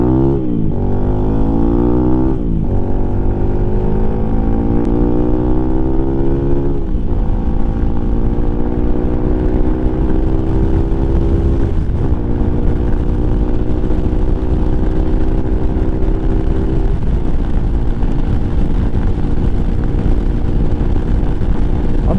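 A 2023 Lifan KPM 200 motorcycle engine drones steadily while riding, loud and close throughout, with rising pitch sweeps as it accelerates through gears and short dips at each shift, no talking.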